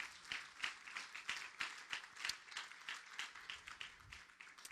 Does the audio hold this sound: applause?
yes